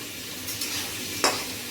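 Cashews fry in a hot pan while being stirred, the first step of a yogurt meat curry: a steady close sizzle with soft stirring scrapes and one sharper scrape of the spoon against the pan.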